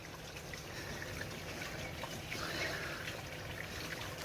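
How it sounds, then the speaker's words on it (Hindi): Spring water trickling out from under a tree in an Azad Kashmir village, a soft steady babble of flowing water, faint and continuous with no voices. "इसके नीचे जो एंड से ये पानी निकल रहा है"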